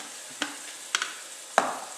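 Onions and shallots frying with coarse salt in a pan, a soft steady sizzle broken by three sharp close clicks of stirring or popping.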